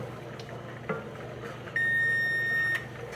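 An oven signals it has finished preheating with one long, steady electronic beep lasting about a second, clear and close, over quiet kitchen background with a few faint clicks.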